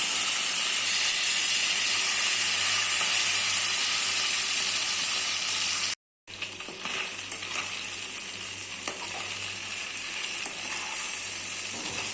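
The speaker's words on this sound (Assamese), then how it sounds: "বাকী থকা মাছকেইজনীও ফ্ৰাই কৰি ল'ম।" Fish fry in a pan with a strong, unbroken hiss and sizzle, cut off by a brief silence, then resuming with a steady sizzle and light crackling and spitting, close up and with no voices.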